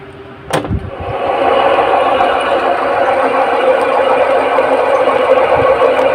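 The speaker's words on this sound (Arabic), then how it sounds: "المروحة دايرة معايا بشكل طبيعي اهيت، لكن صوتها عالي جدا زي ما حضراتكم سمعتوا" A Chinese-made ceiling fan runs loudly just after being switched on, a sharp click giving way to a steady, close whirring hum with a faint rattle that holds for several seconds.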